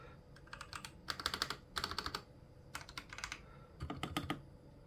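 Rapid bursts of keystrokes on an AULA Wind F68 mechanical keyboard with Gateron Red linear switches, close and clear, in short clustered runs separated by brief pauses.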